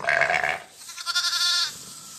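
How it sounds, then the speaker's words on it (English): Lambs and ewes bleat outdoors on open moorland in spring, one loud close bleat followed by a wavering, higher cry, both clear and nearby with a faint breezy background. "The lambs each with their unique wee baa, wee cry."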